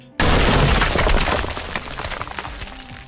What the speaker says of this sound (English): Boulder crashes into brick.